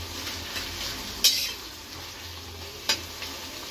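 Onions frying in a pan with salt and bay leaves, a soft continuous sizzle with occasional metallic clinks of a utensil against the pan, no talking.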